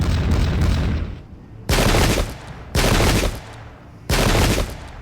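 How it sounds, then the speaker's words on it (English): Musket volleys ring out in the Pike and Shot strategy game, with four loud, dense bursts of crackling gunfire. Each rolls on for about half a second to a second, separated by short decaying gaps and set against a low rumble. "Really good shooting by the men"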